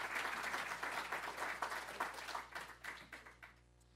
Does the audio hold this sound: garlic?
no